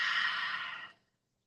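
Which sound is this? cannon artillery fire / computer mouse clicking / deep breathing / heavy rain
deep breathing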